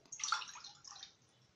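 A cup of water poured into a pan while making crispy Tamil rice buttons, a short soft splash lasting about a second that tapers off, with no talk.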